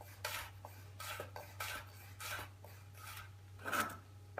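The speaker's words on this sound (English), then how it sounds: "start slicing away your Brunoise" Kitchen knife slicing vegetables into a fine 2 mm brunoise on a cutting board, a run of quick, evenly spaced chopping taps with light scraping, close and steady over a low background hum.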